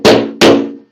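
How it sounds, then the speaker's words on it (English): Two sharp, loud metal strikes about 0.4 s apart from a body hammer working the welded steel front flare of a Porsche RSR, each ringing briefly before fading, with no talk. "I'm using these body hammers as well"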